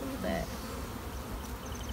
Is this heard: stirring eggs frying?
no